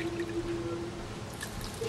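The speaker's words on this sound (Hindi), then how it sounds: "ये हाफ कप डाला पानी" Half a cup of water is poured into a pot while cooking, a steady soft trickle and splash under a constant kitchen hum, lasting a couple of seconds.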